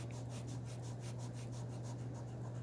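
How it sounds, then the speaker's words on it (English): A fingertip rubbing pencil graphite into paper, a soft, faint, rhythmic scrubbing repeated in quick back-and-forth strokes over a low steady hum. "I'm just going to rub around here until I get it filled in"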